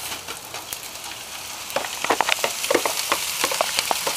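Marinated ahi tuna crackles on heavy-duty non-stick foil over a grill: a close, steady sizzle dotted with sharp pops that grow denser and louder midway through.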